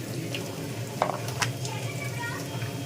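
Onions and cucumber pieces frying in oil in a pan, a steady close sizzle with a few clinks and stirring scrapes, while a person talks over it.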